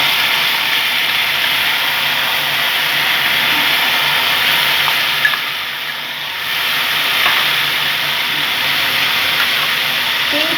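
Mustard paste hitting hot oil seasoned with nigella seeds, a steady loud sizzle and hiss that runs throughout with a brief dip midway.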